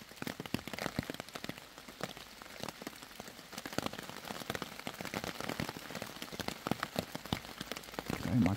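Steady rain patters on a tent roof from close by, a dense stream of small drop impacts that stays even throughout with no talking.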